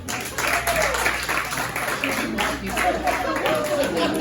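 A stand-up comedy audience claps hands in a moderate, uneven patter that swells and fades in bursts, with a low room hum underneath and faint voices.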